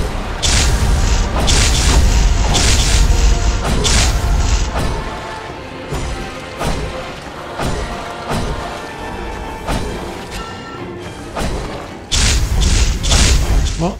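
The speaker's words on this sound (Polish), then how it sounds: "Jakby cała arena dosłownie wybuchła. Albo się trząsła." In the video game The Last Faith, heavy booming impacts and rumbling crashes roll through a dense, loud boss-fight soundscape as the arena shakes, with repeated thuds and a sustained roar that swells again near the end.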